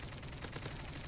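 Gunfire in the video game Call of Duty MW3, a quick run of shots with a few sharper bursts standing out over a steady mix of game noise, fairly faint.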